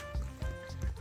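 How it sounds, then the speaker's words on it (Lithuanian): Beer poured from a bottle into batter for a breading, heard as a brief, soft liquid splash and gurgle with a few low thumps, close by and fairly quiet. "Pilam alų."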